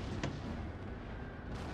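Cannon artillery firing on a battlefield in Empire: Total War, a single muffled boom with a short rumbling tail, fairly distant amid dense battle ambience, no talking.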